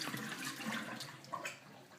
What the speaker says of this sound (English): So just empty this out.